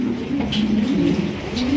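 A pair of red Lahori pigeons coo close by in a steady run of low, rolling calls that carry on without a break, with no talk over them.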